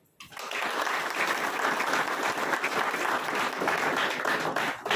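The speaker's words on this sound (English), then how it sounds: "So I invite all students to have a clap for our guest with online join." Students at a sustainable development conference applaud a guest, a dense, steady wash of clapping that starts abruptly and holds at an even, fairly loud level throughout.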